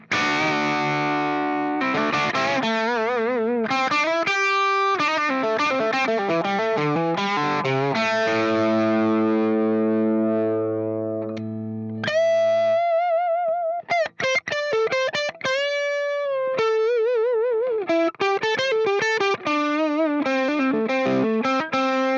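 Electric guitar run through a budget NUX distortion pedal with the gain up, gritty chords then choppy single-note lines with pauses, close and loud, no talking.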